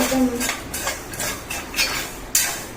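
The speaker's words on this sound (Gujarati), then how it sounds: "મીઠામાં નાખીને સતત હલાવવાનું" Peanuts stirred in salt in a pan on the stove scrape and rattle in quick rhythmic strokes, several distinct clinking sweeps within a few seconds, close and fairly loud with no voice.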